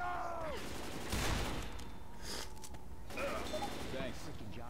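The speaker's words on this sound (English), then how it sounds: "I'm shooting these fuckers' legs off." Left 4 Dead 2 gunfire aimed at zombies' legs: a few quick clattering volleys of shots at roughly one-second gaps, set among game sound effects and voices.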